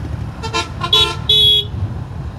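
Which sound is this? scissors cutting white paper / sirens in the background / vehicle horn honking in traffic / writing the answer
vehicle horn honking in traffic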